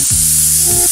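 Onion, bell peppers, broccoli, baby corn and mushrooms sautéing in a pan for Italian pasta, a loud steady sizzle with a brief stirring scrape, close and alone without talk.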